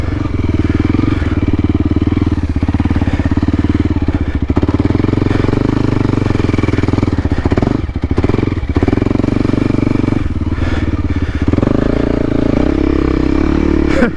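A dual sport motorcycle roars steadily while riding off-road, its loud, continuous engine drone rising and easing with throttle changes, with occasional clattering from the rough terrain.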